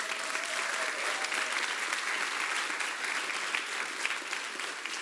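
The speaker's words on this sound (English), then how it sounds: "can I please have everyone give a big round of applause for our 45 members who participated" A large audience applauds the 45 members who took part in an IPSC event, steady dense clapping filling the room at an even level throughout without pause.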